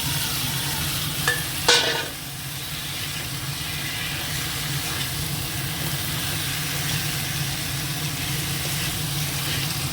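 Fish, potatoes and tomato sizzle in spiced oil in a pan, a steady loud frying hiss with a brief clatter near the start as the pieces drop in, then an even, continuous sizzle.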